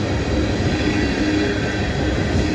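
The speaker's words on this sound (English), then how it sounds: "this is a 1987 loaded train" A loud, steady rumble of a passing freight train fills the clip, continuous and close with no breaks.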